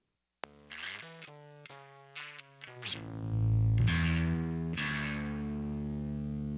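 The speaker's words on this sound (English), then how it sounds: "This bass track is about that mid and high mid distortion." A heavily distorted bass guitar plays a run of short notes and then sustains a thick, gritty tone, with nobody speaking.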